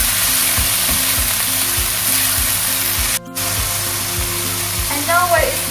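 Chopsuey stir-fried and tossed in a pan with a little pepper, a loud steady sizzle running throughout with repeated scraping stirs and a brief break partway, no talking.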